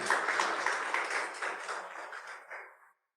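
A church congregation applauds together, a steady dense wash of clapping at moderate distance that holds for nearly three seconds before fading out, with no talk over it.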